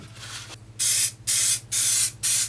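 High-temperature aerosol paint sprayed onto brake discs during a rear vented disc upgrade on a BMW E36: four bursts of hissing spray, each about half a second, separated by short pauses, close and loud with no talking.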